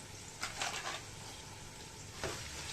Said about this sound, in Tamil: பட்டை போட்டிருக்கேன், வதங்கி வரட்டும்னு அப்படியே பண்றேன்